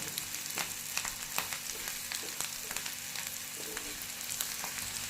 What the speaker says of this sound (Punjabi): ਕੜੀ ਪੱਤੇ ਨੂੰ ਪਾ ਲਓ ਤਾਂ ਫਰਾਈ ਕਰ ਲਓ